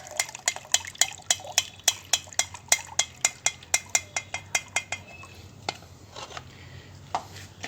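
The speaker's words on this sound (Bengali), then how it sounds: "এটা একটুখানি ভালো করে গুলিয়ে নেব" A spoon stirs a strained liquor-tea mixture in a metal container, fertilizer for a hibiscus plant, knocking the sides in a quick, regular run of sharp clinks close by, then slowing to scattered taps.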